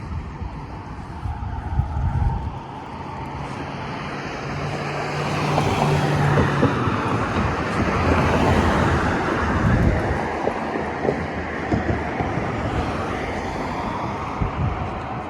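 A Chevrolet police vehicle driving past on a road, its engine and tire noise swelling and fading, mixed with wind buffeting the microphone and a low rumble.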